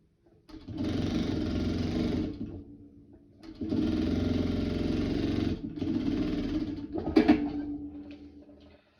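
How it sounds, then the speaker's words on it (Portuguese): A sewing machine fitted with a presser foot stitches binding onto plastic in three steady whirring runs, close and fairly loud, separated by brief pauses and ending in a softer slowing run. "a gente vai costurar com um pezinho de máquina"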